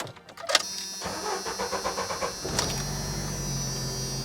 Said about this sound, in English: now let's go ahead and start this vehicle